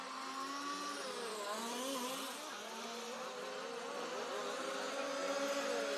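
Small 4WD radio-controlled model race cars, including an MCD, scream around a track in a European Championship final, a continuous high-pitched whine with shifting pitch as several cars rev and pass, steady and fairly loud.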